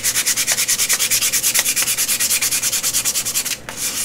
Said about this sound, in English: So I'm gonna sand this one.